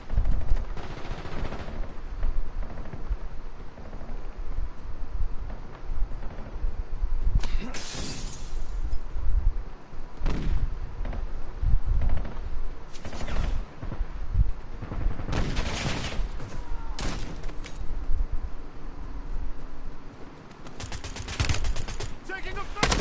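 Gunfire in Call of Duty, with bursts of shots and sharp cracks scattered through a dense, busy game mix, mostly mid-distance, with a voice talking at times.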